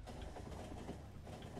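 A train rumbles along in the factory-building game Factorio, a faint, steady low mechanical hum with soft rhythmic clatter running continuously in the background, with no speech.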